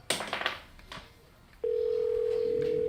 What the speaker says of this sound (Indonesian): Herman masih berkomunikasi dengan dunia luar menggunakan telepon genggam.